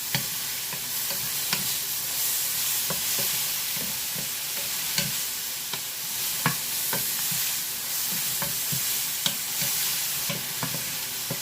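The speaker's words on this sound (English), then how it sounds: "Stirring frequently, not to burn." White mushrooms sauté over medium-high heat in a pan, a continuous sizzle broken by frequent scraping clacks of a utensil stirring them, close and steady, with no talk.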